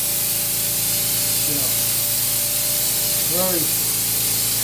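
A steady, loud hiss of spraying runs throughout without pause, with a couple of brief, faint voice-like sounds rising above it.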